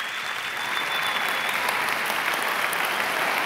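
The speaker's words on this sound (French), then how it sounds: "pour lequel je vous prie de faire un banc d'applaudissements," Studio audience applause at the Castel Live Opera talent show, dense, steady clapping from a sizable crowd that holds evenly throughout without a break, fairly close and loud.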